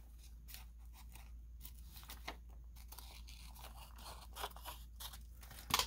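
Scissors trimming paper for a junk journal, a run of soft close snips and crisp paper crunches at an uneven pace, ending in a sharper clip; quiet and without talk.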